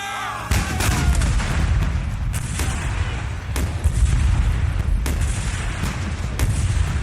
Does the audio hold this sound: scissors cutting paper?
no